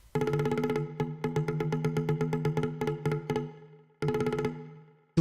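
A synthesizer octave line plays together with percussion as plucked, bright staccato notes in a steady rhythm. It stops briefly, then comes back with one last hit.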